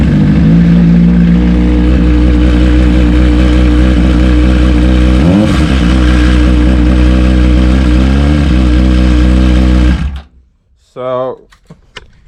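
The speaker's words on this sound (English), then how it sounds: "So that rattling noise, right? That rattling is coming from the clutch basket, actually." A Honda CBR600RR stunt bike engine idles loud and close with a rough, rhythmic rattle from a worn clutch basket, then cuts off abruptly near the end, leaving a brief quieter tail.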